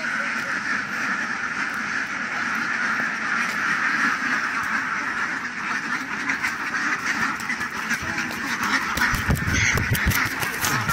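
Ducks quack steadily and loudly at a village pond in Nepal, a dense overlapping flock chattering continuously with a few sharper calls near the end.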